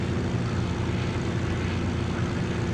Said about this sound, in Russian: Вот истребитель надо мной летает от Пантеры.